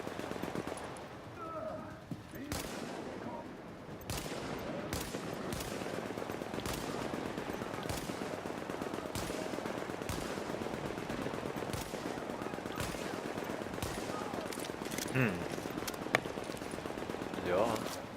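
Turret gun in the video game The Division firing rapid repeated bursts of gunshots through the whole stretch, steady and fairly loud, with someone speaking over it.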